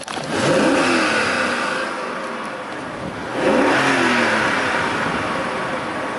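BMW 740iL E38 V8 engine running close by, revving up twice in a sustained rising roar, settling briefly between pulls with a steady strong hum.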